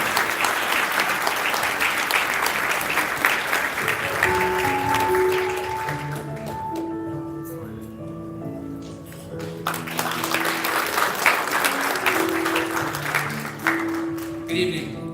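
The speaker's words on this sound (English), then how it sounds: "Please give him a big round of applause." Audience applause at a veterans' thank-you dinner for UN Korean War veterans, a broad round of clapping that fades midway under soft background music and then swells again.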